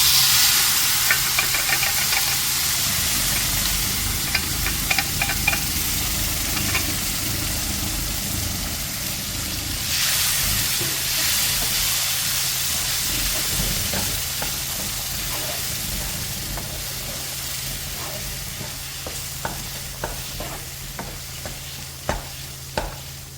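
A papaya, green gram and coconut mix goes into a hot pan and sizzles and hisses steadily while a spoon scrapes and stirs it in short repeated strokes.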